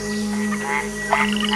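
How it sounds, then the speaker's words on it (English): Male white-lipped frog calling in a swamp or jungle, with short chirping whistles and croaks over a steady hum of insects and other frogs, moderately close and unaccompanied by speech. "In competition with other male frogs, the vocalizations increase"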